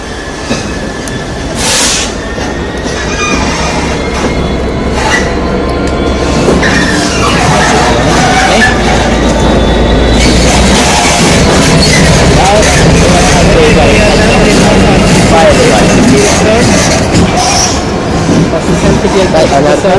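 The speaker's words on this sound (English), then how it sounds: "the 1058 Greater Anglia service to Felixstowe will make its departure" A Greater Anglia passenger train bound for Felixstowe departs Ipswich station, its loud, close rumble building with clattering wheels and a brief squeal, continuous throughout while someone speaks over it.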